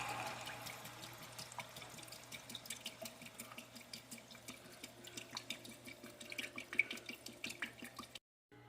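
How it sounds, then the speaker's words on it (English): Water pours into a stock pot holding a chicken carcass, a soft continuous trickle and splash with rippling, dripping pulses that build slightly before cutting off near the end. "Let those cook for about a minute, and then add the water."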